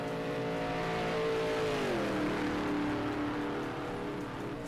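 A race car engine in a sim racing game on the Spa circuit drones steadily and loudly, and its pitch drops partway through as the car shifts or lifts. No one talks over the constant engine noise.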